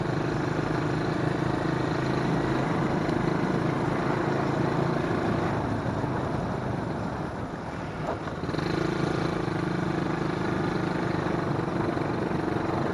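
A quad bike engine drones steadily during a night ride, holding a constant rumbling tone with a brief dip in loudness partway through before resuming at the same level.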